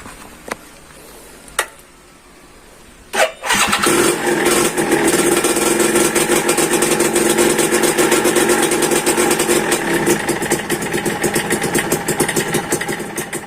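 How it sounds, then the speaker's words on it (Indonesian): A 2001 Suzuki Satria two-stroke motorcycle engine cranks on the electric starter and catches after a few quiet seconds, then settles into a steady, buzzing idle that runs loud and close. "motor ini meskipun ada kopling bisa di starter"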